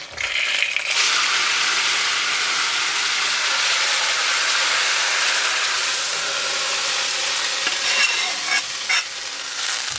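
A hot tempering of oil and spices poured onto potato and tomato dal bursts into a loud, steady sizzle that starts abruptly and holds at full strength, with faint stirring clinks near the end.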